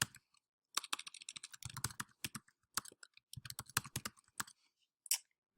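Quick bursts of keystrokes on a computer keyboard as a password is entered, close and crisp clicks in uneven clusters separated by short pauses, with no talking.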